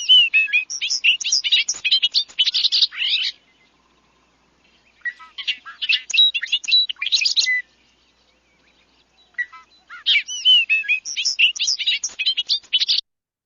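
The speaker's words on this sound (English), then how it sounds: "the bobolink makes these incredible R2D2 robotic sounding noises" Three bursts of bobolink song, each a few seconds long, made of rapid bubbling, metallic, robotic-sounding notes separated by silent pauses, clear and close.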